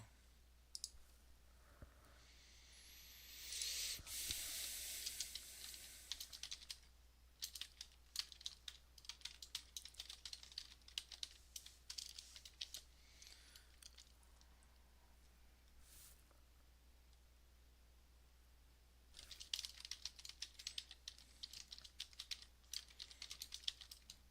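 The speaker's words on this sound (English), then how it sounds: "while I'm typing this out" Computer keyboard typing in bursts of rapid, quiet key clicks with pauses between, close to the microphone in a quiet room, with no one talking.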